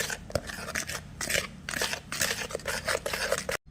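Butter is beaten with powdered sugar for soft butter cookies, giving close, rhythmic scraping and rubbing strokes in a bowl that repeat steadily with no voices.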